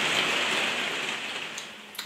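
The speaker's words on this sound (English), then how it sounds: "You can hear the rains pouring down around us" Heavy rain pours down outdoors as a steady, dense hiss that holds at an even level throughout, with no voices over it.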